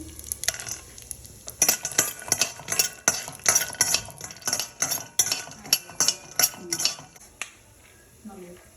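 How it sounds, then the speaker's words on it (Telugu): Almonds frying in ghee in a pan while a metal spoon stirs them, giving a quick run of bright clinks and scrapes against the pan over a faint sizzle, fairly close. "ఇప్పుడు ఫస్ట్ బాదం వేసేసుకుంటున్నాం, కొంచెం నెయ్యిలో వేయించుతున్నాం."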